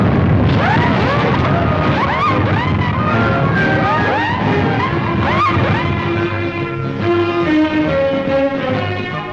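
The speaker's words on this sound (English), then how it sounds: "Banks and bridges flashed and sparkled, as Paris said it with a fusillade of fireworks" Fireworks over Paris at night: repeated whistling rising bursts and crackling pops layered over a busy background, with rising tones from rockets. The display runs loudly and steadily throughout.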